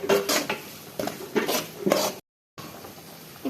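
A spoon scrapes and knocks against a pan while egg bhurji is stirred with turmeric, several quick rhythmic metal clatters close up, then a short gap and softer scraping.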